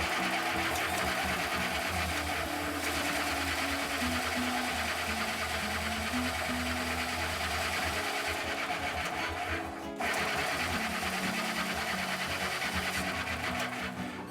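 A small 3/16-inch metal fastener for a guitar is ground to a point on a power tool, giving a continuous loud whirring drone with a steady grinding texture that briefly breaks near the end, and no speech.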